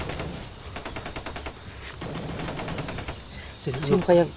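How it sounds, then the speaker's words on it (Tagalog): Gunfire sounds far off during a tense trek outdoors, a run of faint, muffled pops and rattling bursts under a steady background, with a louder thud near the end. "Ang kaso nga lang ay mahina pa yung mga putok. Parang nasa malayo."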